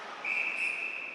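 An air whistle blown by the referee at a GMHL junior ice hockey game between Windsor and North York gives one steady, loud shrill blast of about a second over rink ambience.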